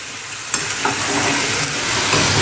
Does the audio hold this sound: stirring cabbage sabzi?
yes